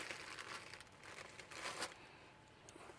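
Sheet covering material being cut to size for a garden plant heat-protection frame, heard as soft, faint crinkling and rustling with small crackles, close and intermittent.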